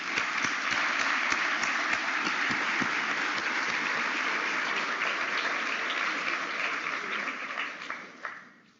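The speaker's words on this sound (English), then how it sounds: "I'd like us to take a moment to warmly applaud all of these adults who've been there with" Graduation ceremony audience applauding warmly for the supporting adults, sustained dense clapping from a large crowd in a hall that holds steady for several seconds, then thins and fades out near the end.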